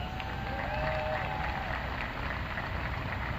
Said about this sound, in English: Get a round of applause for them.